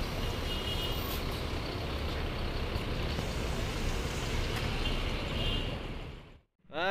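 A large intercity bus eases forward at a terminal to reposition in its parking bay, its steady engine rumble filling the scene loud and close before briefly dropping away near the end.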